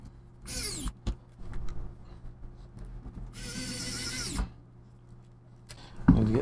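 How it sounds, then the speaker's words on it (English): Small screws being driven back into a laptop hinge during a super glue and baking soda hinge repair, heard as a few short bursts of a small power driver with creaks and rubs between them, close up and with no talk. "Let's see if the screws go back in properly."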